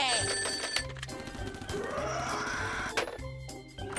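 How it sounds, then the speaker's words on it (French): Batman's telephone rings in a cartoon, a bright bell tone at the start that is then buried under busy music and sound effects. "le téléphone auquel Adam West répondait quand le mal s'approchait"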